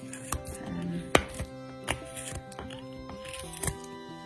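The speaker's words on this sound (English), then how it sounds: "this is your hook knife. I'll hold way up on this one again in my knuckles, and just make really small cuts" Hook knife taking small, slow cuts into a wooden spoon, a sparse run of soft, close scraping chips with one sharper crack, quiet and unhurried with no talk.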